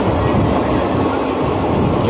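A crowded passenger train in motion gives a steady, loud rumble and rattle that fills the whole stretch, with faint murmuring voices blended into the din.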